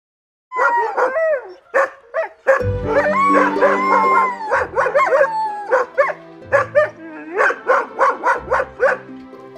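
Sled dogs stopped on a climb bark, yip and howl together in a loud, continuous chorus of overlapping voices, with several short sharp barks near the end.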